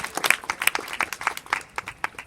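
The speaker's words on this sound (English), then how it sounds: "Let's give all of the Year 5s a very big round of applause." At a school speech day, a modest audience claps for Year 5 children: sharp, separate handclaps in a loose, uneven rhythm that stay close and distinct rather than blending into a roar.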